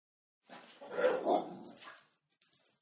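Cleo, a pet dog, lets out one drawn-out vocal burst lasting just over a second, close and moderately loud, then falls quiet.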